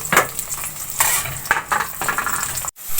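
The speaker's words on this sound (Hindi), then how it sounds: "अब प्याज को मैं ब्राउन कर लूँगी।" Long-sliced onions browning in hot oil in a pot for beef and potato gosht, a loud, close, continuous sizzle broken by stirring scrapes and bursts of crackle, with no talking.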